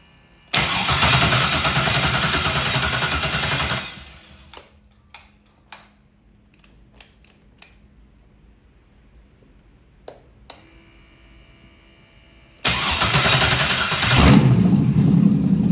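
An engine firing up for the first time, a loud sustained roar that cuts off, a few sharp ticks and clicks in the quiet gap, then the engine roars back to life and runs steadily again.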